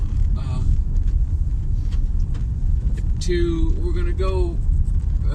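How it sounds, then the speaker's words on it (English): Steady low road rumble from inside a car driving down a country road, continuous and fairly loud, with a voice talking over it partway through. "We're in the car. We're driving down the country road."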